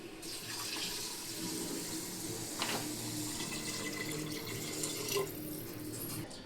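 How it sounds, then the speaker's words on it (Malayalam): Water poured steadily into a home-cooked beef biryani pot, a continuous close splashing rush that holds evenly for several seconds without talk. "വെള്ളം ഒഴിച്ചു കൊടുക്കാം"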